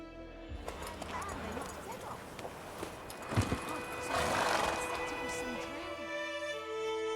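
Roach the horse galloping and neighing in The Witcher 3 game, hoofbeats thudding under a whinny, with voices talking over the ride.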